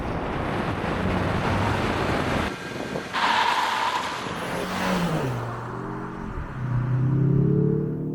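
A 2024 Mazda3 2.5 Turbo with all-wheel drive accelerates hard in sport mode with traction control off. Heavy wind and road rush dominate at first, then a rising engine tone climbs steadily through the final seconds.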